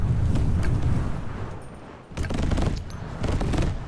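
A fire spell roaring through an enemy swarm in a video game: two loud, continuous whooshing bursts of flame with crackling blasts, split by a brief dip in the middle.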